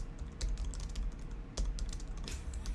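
Someone types on a computer keyboard, sending out quick bursts of close, clicky keystrokes separated by short pauses. There is no talking.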